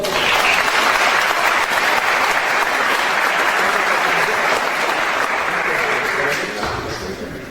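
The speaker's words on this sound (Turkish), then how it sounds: "Onları bir alkışlar mıyız?" A crowd at a sports club gathering in Bursa gives the technical team a long, dense round of applause, loud and sustained before thinning slightly at the very end.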